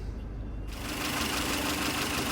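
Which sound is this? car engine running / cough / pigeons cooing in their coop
car engine running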